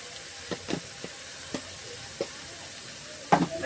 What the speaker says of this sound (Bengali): সেটাকে আবার সুন্দর করে একটু কষাতে হবে দেখো মশলাটা আমার অলরেডি সুন্দর করে কষানো হয়ে গেছে